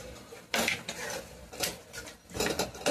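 Mutton being stirred with turmeric in a kadai on the stove for a gongura curry, giving several distinct scraping, clinking spoon-against-pan bursts separated by short quiet gaps, close and moderately loud with no talking.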